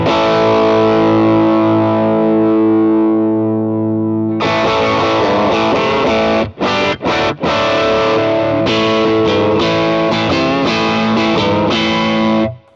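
Electric guitar through an overdrive on a Hotone Ampero II Stomp: a big chord rings and decays, then crunchy, distorted strummed chords chug rhythmically with brief stops, loud and without voices.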